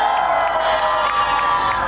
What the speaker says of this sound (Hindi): एक बार जोरदार ताली हो जाए, हूटिंग होनी चाहिए।